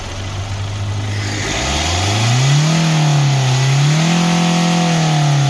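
A parked car's engine idles and is then revved, swelling from a low idle into rising and falling surges, loud and close. The car has an engine-mounting fault that produces a turbo-pipe-leak-like noise.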